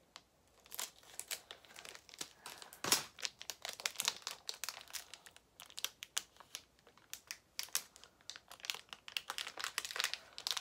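A blade slices open a plastic-wrapped Fortnite loot package, giving close crinkling and crackling of plastic in irregular bursts with brief quiet gaps between them, and no talking.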